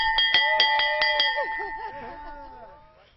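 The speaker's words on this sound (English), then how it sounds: "That's ringing the bell." A bell is struck rapidly about eight times, bright metallic clangs ringing close and clear, then the tone hangs and fades slowly under faint background voices.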